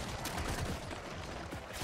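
Rapid bursts of gunfire in the video game Deep Rock Galactic: Survivor crackle continuously, with overlapping shots forming a dense, steady barrage.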